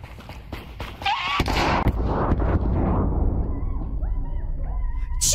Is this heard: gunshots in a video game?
yes